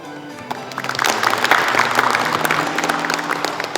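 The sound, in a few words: audience applause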